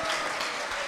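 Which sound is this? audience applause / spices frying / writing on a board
audience applause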